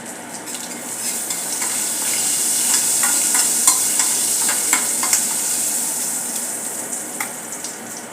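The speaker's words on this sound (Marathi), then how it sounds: "हिंग घालणार आहोत. हे चांगले परतून घेऊया." Asafoetida stirred into hot oil with cumin seeds in a pan, a steady loud sizzle with scattered spatters and spoon scrapes against the metal, no talk.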